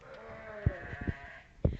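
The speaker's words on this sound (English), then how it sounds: "Again, nice pair of fin ewe lambs that we have in here." Finnsheep ewe lambs bleat in a show ring at a state fair breed sheep show, with a wavering bleat held under a steady background hum and several thumping knocks from hooves or pen gates close by.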